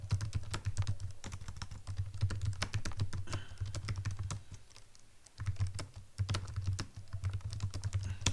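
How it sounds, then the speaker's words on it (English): Rapid, close clicking of keys on a computer keyboard, steady continuous typing with a brief lull partway through. "so if we type and hit enter"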